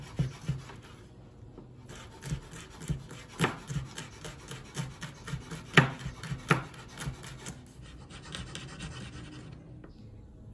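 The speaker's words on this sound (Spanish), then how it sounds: "vamos a picar ya bien el loroco" Loroco buds being chopped with a knife on a small wooden cutting board, giving a series of close, irregular soft taps and scraping strokes with no voices.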